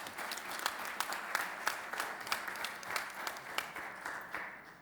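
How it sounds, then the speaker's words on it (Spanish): Audience applause at a Mexican aviation union forum, a fairly quiet, moderate-sized round of clapping with a few distinct sharp individual claps standing out at a loose, regular pace throughout. "Un aplauso, por favor."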